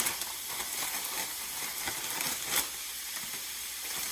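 Thin-sliced meat sizzles and fries in a skillet for pho, a close, steady crackling hiss with a few sharper pops, and no talking.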